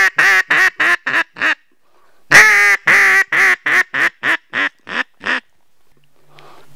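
Hen mallard decrescendo call imitated on a duck call: a loud, close series of about a dozen raspy quacks, evenly spaced and gradually shortening, with one longer drawn-out note near the start, then silence.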